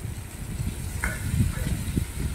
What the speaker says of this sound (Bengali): চিংড়ি মাছগুলো এবার খুব সুন্দর করে লাল লাল করে ভেজে নেব